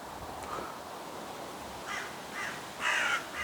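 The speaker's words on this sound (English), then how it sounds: "the crows are going absolutely swooping everywhere" Several crows caw in agitated bursts in a garden, harsh calls sounding at middle distance over a soft background hiss, growing louder toward the end.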